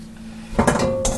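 A sugar and orange rind mixture is tipped into a bowl, giving a short clatter and clink of a dish after a quiet start, close and fairly loud.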